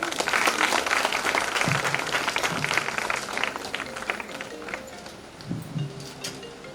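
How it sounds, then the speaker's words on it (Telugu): Applause from the audience at a women's entrepreneurship and skill training programme run by a social welfare organisation, a dense, steady clapping that starts loud and slowly thins out, with a few voices mixed in. "గట్టిగా చప్పట్లు"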